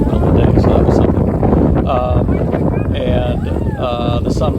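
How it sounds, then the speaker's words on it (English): Strong wind buffets the microphone on an open main river channel, a steady loud roar across the whole stretch with faint tonal whines layered over it. "it was really, really windy"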